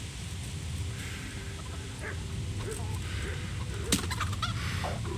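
Chickens cluck and squawk in a farmyard scene in the Kingdom Come: Deliverance game, scattered calls over a low rumbling background, with a brief sharp squawk near the end.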